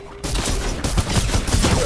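Rapid semi-automatic gunfire in Fortnite, a dense run of loud, close shots firing in quick succession with no talk over it.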